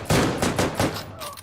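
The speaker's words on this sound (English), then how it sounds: "I heard the gunfire and I can't peep the corner." Gunfire in the video game Deadside cracks out in a rapid burst of four loud, close shots with booming echoes, then trails off into a distant reverberant tail.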